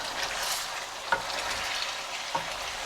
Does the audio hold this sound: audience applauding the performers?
no